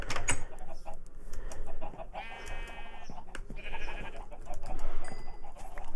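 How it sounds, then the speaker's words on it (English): Minecraft sheep bleat in the video game, two or three short nasal calls among scattered clucking and other farm-animal noises, fairly close, with no talk. "I have to deal with this"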